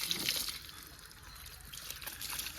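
Water pours and splashes in a continuous stream, with hissy trickling that swells and eases, nearby and moderately loud.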